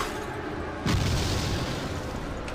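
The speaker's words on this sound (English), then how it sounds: "You don't stand next to the bombs" A bomb detonates in the video game Torchlight 2, a single deep boom with a long rumbling tail that cuts sharply through steady game background noise, with no voices.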